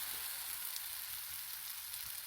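Spicy pancake batter sizzling in a frying pan, a soft steady hiss and crackle throughout, fairly faint and even, with no talking.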